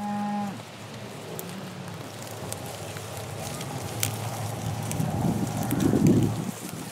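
Cattle on a farm moo, with a low call near the start and another rising toward the end, over a steady outdoor background hum.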